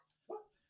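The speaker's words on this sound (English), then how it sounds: "Excuse the dog." A dog gives a single short, faint bark indoors, alone and brief against a quiet background.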